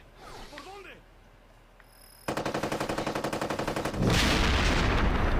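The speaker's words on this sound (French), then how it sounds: "Il y a vraiment des très belles explosions." Gunfire and explosions from the video game Ghost Recon Advanced Warfighter 2: a short burst of scattered pops, then a rapid, even run of loud automatic shots, ending in a big sustained blast that fills the sound, with no talk over it.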